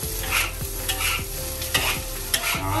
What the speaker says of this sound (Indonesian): Masukkan semuanya and then just give a good stir.